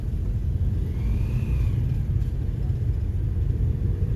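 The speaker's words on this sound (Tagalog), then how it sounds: "Naipit na sa traffic," Heavy road traffic on a street under construction in Rodriguez (Montalban), Rizal, heard as a loud, steady low rumble of car engines close by with a brief passing whine.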